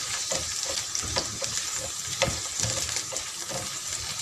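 Oil sizzles and crackles steadily in a pan of frying eggplant, with soft clicks of stirring scattered through the continuous hiss.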